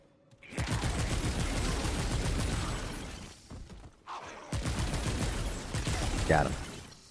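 A pistol fires rapidly in the video game Remnant 2, with fast repeated shots in two long bursts and sharp mechanical clatter, loud and close, plus a brief effect near the end.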